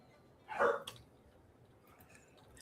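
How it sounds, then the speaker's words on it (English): A dog in the Stardew Valley farming game gives one short, fairly quiet bark, followed by a couple of faint yips, with no speech over it. "Yeah, she's just barking."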